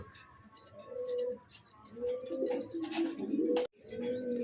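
Pigeons coo in soft, throaty repeated phrases close by, with a brief rustle and clink partway through.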